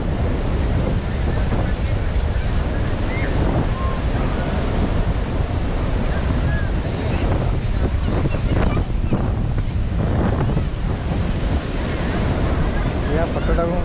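Sea waves roll in at a crowded Puri beach in Odisha, a constant loud surf roar with wind buffeting the microphone and faint voices of bathers mixed in.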